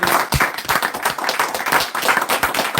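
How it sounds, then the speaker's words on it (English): Steady, fairly loud hand clapping from a small group, sharp irregular claps packed closely together over the full stretch, with a few excited voices mixed in. "Hand claps, man."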